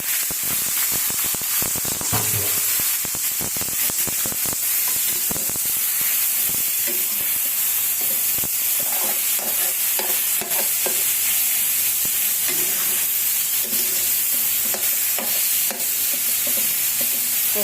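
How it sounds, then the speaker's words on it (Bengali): Red leafy greens fry in a hot pan with a loud, continuous sizzle and hiss throughout, with scattered scraping and stirring clatter close by and no talking. "শাকটা ভাজতে থাকি"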